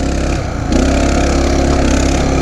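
A Coleman CT200U mini bike's small engine runs close by, holding a steady buzzing drone that dips briefly and then picks up again for the rest of the stretch.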